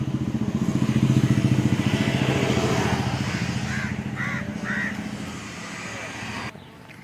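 A motorbike engine putters past nearby at a truck workshop, a low throbbing drone that is loudest early and slowly fades, while a few crow-like caws ring out near the end.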